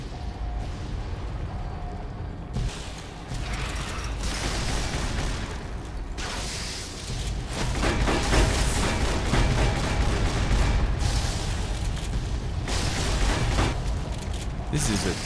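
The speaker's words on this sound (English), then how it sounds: "Explosions, it's like blocking my screen." Continuous barrage of booming explosions and crackling gunfire in a chaotic battle in a tunnel in the game Fallout: New Vegas, loud and layered with no pauses.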